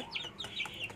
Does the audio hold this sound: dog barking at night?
no